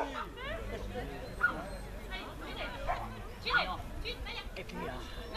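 A dog barks and yips in short repeated bursts indoors, moderately close, while people talk and chatter over it.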